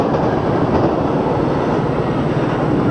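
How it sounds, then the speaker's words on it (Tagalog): A long diesel train rolls past close by on a line between Switzerland and Austria, producing a steady, loud rumbling roar throughout, without speech. "Salubungan yung tren, ah."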